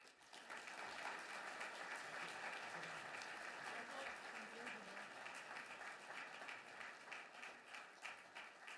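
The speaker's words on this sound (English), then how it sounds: "Another round of applause for our inductees." Audience applause fills an awards ceremony for a hockey league hall of fame induction, a steady, dense wash of clapping sustained throughout at moderate distance.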